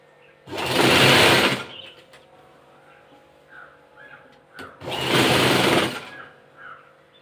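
Sewing machine stitching the side seam of a pavada skirt, two loud sustained runs of about a second and a half each, separated by a pause with faint clicks and handling noise.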